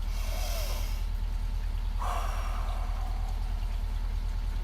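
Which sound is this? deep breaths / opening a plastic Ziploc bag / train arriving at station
deep breaths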